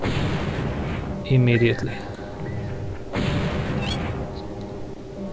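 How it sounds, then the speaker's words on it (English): Artillery guns firing in the strategy video game Spellcross, two heavy booming shots a couple of seconds apart under a low steady background hum, with someone speaking briefly. "So we should use the artillery to kill the enemy's artillery"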